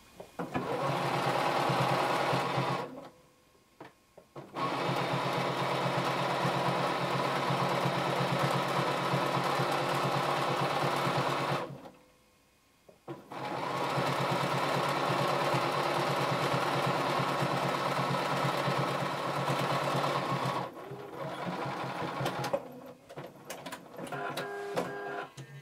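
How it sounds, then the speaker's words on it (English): A sewing machine runs a straight-stitch seam with a 5/8 inch seam allowance on a DIY workout top, a steady, quiet mechanical whir in three long bursts separated by short pauses. "We're gonna be using a 5/8 of an inch seam allowance and using a straight stitch."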